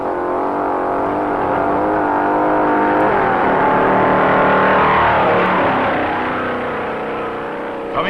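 A 1957 Pontiac stock car races on the sand at Daytona Beach, a loud sustained engine roar that swells as it nears and then slowly fades away.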